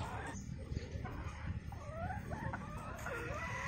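Brown egg-laying hens being fed fruit cluck and murmur close by in a busy, overlapping stream, with scattered rustling and a voice in the background.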